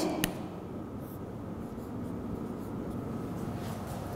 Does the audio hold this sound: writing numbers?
yes